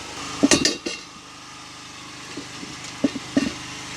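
Metal parts clank in a few sharp, close knocks and bumps as a second axle is fitted under a camper trailer during running gear replacement, with quieter gaps between the hits.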